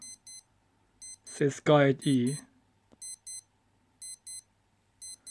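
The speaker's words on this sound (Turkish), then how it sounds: "Alarm böyle çalıyor." Retro Casio digital watch alarm beeping in quick double pulses, repeating at a steady rhythm, with a person speaking briefly in between.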